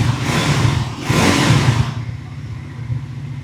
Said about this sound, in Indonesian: Jadi dia punya suara yang cukup ngebas.